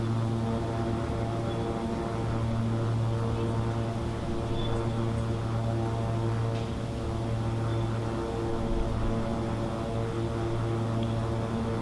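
Steady drone of a light propeller aircraft in flight in slightly gusty wind, a loud continuous engine hum with strong low harmonics, faint hiss on top and slight wavering in level.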